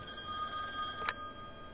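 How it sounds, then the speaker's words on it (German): Electronic telephone ring from The Wolf Among Us video game, a sustained trilling bell heard alone against quiet game ambience, with one sharp brief click partway through. "Telefon!"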